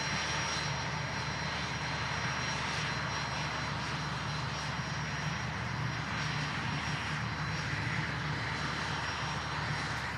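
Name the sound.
Beechcraft executive jet departing Manchester Airport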